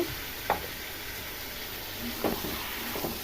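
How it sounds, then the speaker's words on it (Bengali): Spiced meat sautéing in a pan gives a soft, steady sizzle with a few brief stirring scrapes scattered through it. "মাংস সব রকম মশলা মাখিয়ে বসিয়ে দিয়েছি তো কষিয়ে নেবো"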